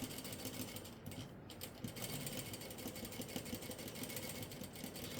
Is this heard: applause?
no